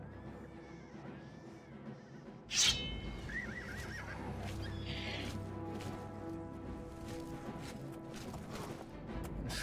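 A black horse in The Elder Scrolls Oblivion gives one short, sharp neigh about a quarter of the way in, rising briefly above a steady bed of game music and ambience.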